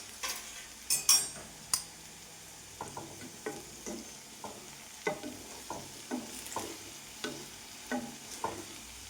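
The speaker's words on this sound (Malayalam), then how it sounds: "വെണ്ടയ്ക്ക വെളിച്ചെണ്ണയിൽ നിന്ന് കോരി എടുത്തിട്ടുണ്ട്" Fried okra being scooped out of hot coconut oil in a kitchen pan, with a series of light metallic scrapes and clinks of a slotted spoon against the vessel over a soft background sizzle, no talking.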